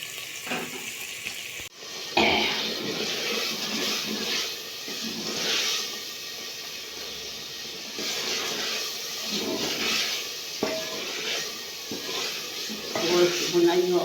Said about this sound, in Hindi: बंद गोभी डालेंगे।